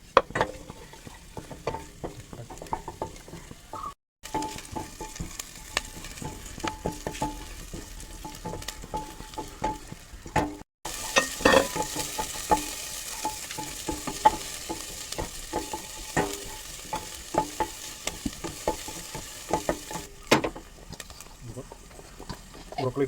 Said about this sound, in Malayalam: കുറച്ച് ഗാർലിക് വെളുത്തുള്ളി ഒന്ന് ഫ്രൈ ചെയ്തെടുക്കുന്നുണ്ട്.